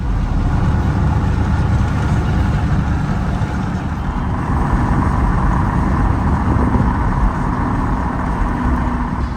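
A truck drives along the road toward a Napa parts store, its engine a steady, loud low rumble with road and cabin noise throughout and no talking.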